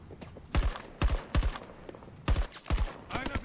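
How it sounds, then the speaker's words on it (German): Gunfire in the shooter Battlefield 2042 Hazard Zone: several sharp bursts of shots in uneven clusters, fairly close, with faint background noise between volleys. "Ich glaube, wir werden von links irgendwo geschossen."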